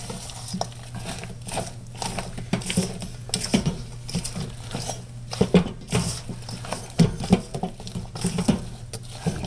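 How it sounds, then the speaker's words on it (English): Snickers taffy apple salad being stirred and folded in a bowl, a steady run of wet, sticky squelches and soft scraping strokes, close and uneven in rhythm, with no talking. "And then mix it up"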